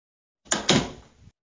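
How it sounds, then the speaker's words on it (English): An interior door closing produces a short double knock-like thud followed by a brief rattling settle, lasting under a second, close by and isolated in silence. "Be sure to close this door."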